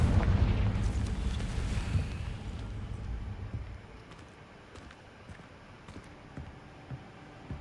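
A Confringo fire spell explodes in Hogwarts Legacy: a loud, close blast that rumbles and fades over about four seconds, leaving faint scattered ticks and crackles.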